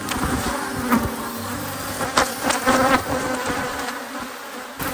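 Aggressive honeybees swarm around an angry hive, a dense continuous buzz close by with individual bees droning past, and no talking.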